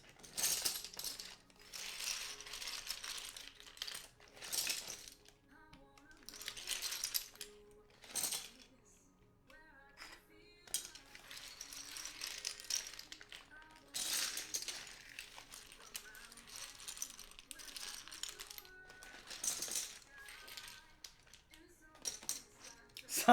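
ABS keycaps being pulled from an acrylic keyboard case and dropped, a run of bright plastic clicks, clatters and rattles in scattered bursts with short pauses, close and fairly quiet, with a voice talking in places.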